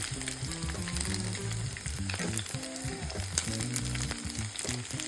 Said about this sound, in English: So I'm gonna fry those.